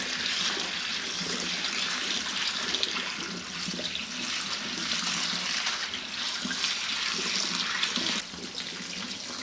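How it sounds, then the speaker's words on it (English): Water streams from a kitchen tap over rice and dal being rinsed, a steady, near splashing flow that softens slightly near the end, with no speech. "Wash till you see clean water going out."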